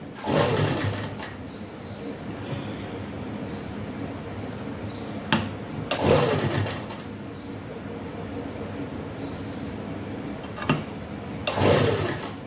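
Sewing machine stitching salwar cuffs, running in three loud bursts of rapid needle chatter separated by quieter pauses with brief clicks, with faint talk in the background.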